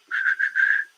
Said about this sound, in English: Blow like this. That's called a whistle.